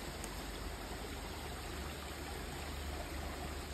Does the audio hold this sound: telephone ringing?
no